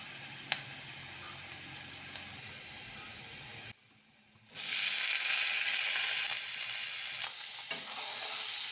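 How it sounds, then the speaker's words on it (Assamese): Paneer pieces frying in a kadai for chilli paneer give a steady close sizzle with stirring scrapes, broken by a brief quiet gap before the frying noise returns louder. "পনীৰখিনি অকণমান ভাজি লৈছোঁ"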